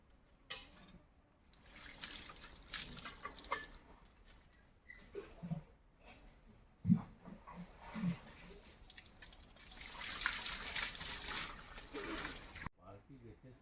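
A full bucket of water poured out at a hillside water pool on Jhapal hill, Betul: splashing, trickling gushes that swell near the end, with voices talking throughout.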